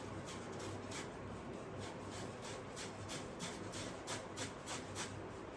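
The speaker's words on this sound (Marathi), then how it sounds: "मी आता छान हा किसून घेते, म्हणजे याच्यामध्ये काहीच राहणार नाही" Leftover chapati being grated by hand produces a steady, continuous rasping scrape with repeated short strokes, close and fairly loud throughout with no talking.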